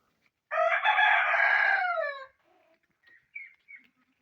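A rooster crows once, loud and clear, in a village, followed by a few faint clucks and distant bird calls.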